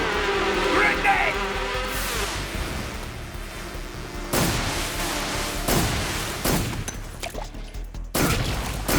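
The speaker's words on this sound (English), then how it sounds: "Grenade!" Explosions and gunfire from the Metal Gear Solid 3 video game: several sharp, loud broadband blasts and bursts of shots, spaced a second or two apart over a continuous rumbling bed, with voices talking underneath.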